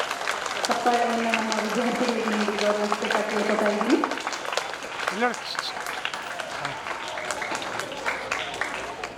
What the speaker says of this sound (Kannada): ಇನ್ನು ಜೋರಾದ ಚಪ್ಪಾಳೆಯನ್ನು ನಮ್ಮ ವಿದ್ಯಾರ್ಥಿಗಳಿಗೆ ನೀಡಿ ಗೌರವಿಸಬೇಕಾಗಿ ಕೇಳ್ಕೊತಾ ಇದ್ದೀನಿ